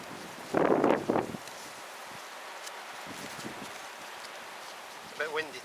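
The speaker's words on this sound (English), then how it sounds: "It's a bit windy today" Wind gusting outdoors in a bushcraft setting, with a loud rushing burst near the start easing into a steady low background hiss, and a brief higher noise near the end.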